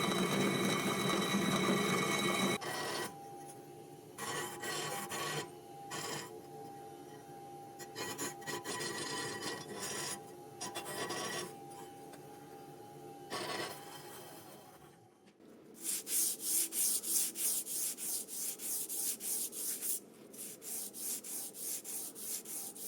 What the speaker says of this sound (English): give them a real quick lap to get rid of the small burrs